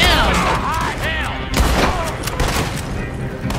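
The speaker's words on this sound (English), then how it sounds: "they're shooting at dynamites" Gunfire and dynamite blasts crash through a Red Dead Redemption II shootout, dense and loud with overlapping booms and shots, while in-game voices shout over the chaos.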